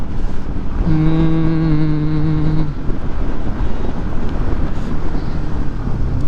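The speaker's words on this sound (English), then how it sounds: "Wind's picking up" Strong wind roars across the microphone during a motorcycle ride near Andra Dam, a loud, continuous buffeting rumble, with a brief humming engine or horn-like tone early on.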